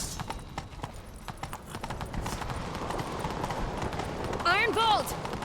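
Horses galloping in a chase in the video game The Witcher 3, a rapid steady clip-clop of hooves under continuous game sound, with a short burst of chirping tones near the end.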